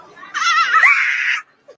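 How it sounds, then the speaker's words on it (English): A woman shrieks backstage in excitement, one loud sustained wavering scream lasting about a second, followed by a faint short squeal. "JT screams"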